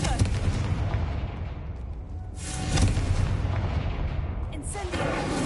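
Confringo fire-blast spell cast in the Hogwarts Legacy video game, a booming explosive burst with a louder swell midway and a second sharp crack near the end, over a dense rumbling game soundscape.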